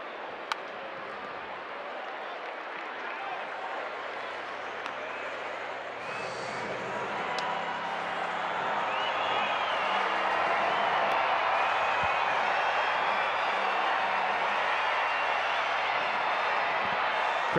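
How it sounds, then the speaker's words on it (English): Baseball crowd at Petco Park in San Diego during a White Sox–Padres game, a murmur that swells into a louder sustained roar of cheering, with a voice speaking early on. "Crowd here at Petco Park has been a lot louder here in the finale of this 3-game series"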